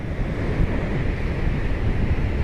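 Wind buffets the microphone on a breezy beach while surf churns nearby, a dense, rumbling roar that rises and falls slightly with the gusts, with no talking.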